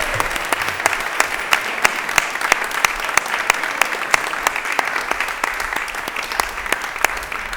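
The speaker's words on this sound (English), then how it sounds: "let's give them all a round of applause" Sustained applause fills a school committee meeting room, honouring student athletes, with a dense, steady wash of clapping and a few sharper individual claps standing out throughout.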